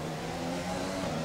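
A failing F1 car engine held at full throttle in the game F1 2020, a steady buzzing drone that stays level in pitch and volume throughout, with no voices.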